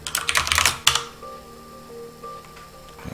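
Typing a command on a computer keyboard while using an IBM VM/370 mainframe session: a quick flurry of close, clattering keystrokes for about a second, then a low steady hum with only sparse faint clicks.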